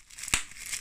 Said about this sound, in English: Bubble wrap.